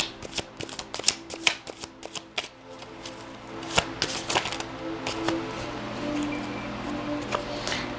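Tarot cards being shuffled, heard as a quick series of close, crisp riffling clicks and snaps, busiest early on and then thinning to scattered flicks over a low background hum.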